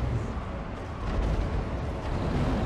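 Flame cannons firing during a Warhammer video game battle, a dense, loud roaring rumble with overlapping booms and crackling bursts continuing throughout, no voices.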